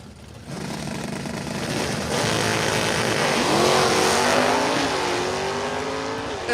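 A stick-shift Camaro with a 4-speed launches hard at a stock and super stock drag race, its engine roaring loudly and climbing through rising revs with a gear change partway, crowd-level noise beneath.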